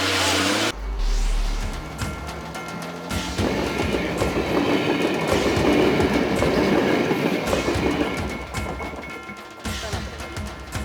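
A train passes on a railway track at a level crossing, a loud, close rumble with rhythmic clickety-clack of wheels over rail joints that builds and holds for several seconds before easing.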